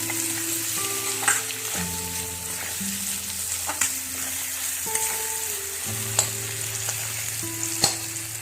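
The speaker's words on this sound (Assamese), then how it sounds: "এতিয়া মোৰ আলুখিনি ভজা ভজা হৈ গৈছে।" Boiled potatoes fry in a pan with onion and tomato, a steady close sizzle broken by occasional stirring clicks and scrapes, with no voices.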